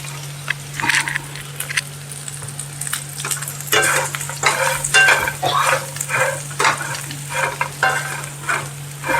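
Bread slices are stirred and sautéed in a pan for bread poha, giving a steady sizzle broken by repeated scraping strokes of a spoon over a constant low hum.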